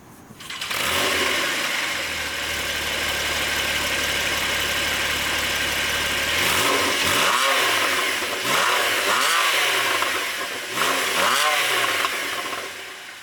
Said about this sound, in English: the engine has that typical flat six sound with a Porsche